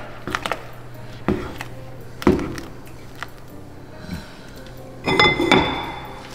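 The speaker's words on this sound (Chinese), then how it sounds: "中途再打开搅拌一下。" A metal spoon clinks and scrapes against a pot as the lid is lifted and pork porridge is stirred, a few sharp knocks separated by quieter pauses.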